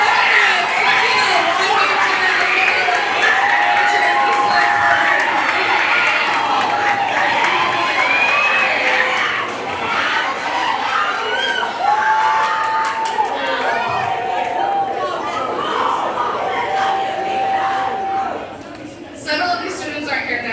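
Theatre awards audience cheering and whooping for students, a loud, sustained crowd roar with scattered shouts and chatter throughout, easing slightly near the end.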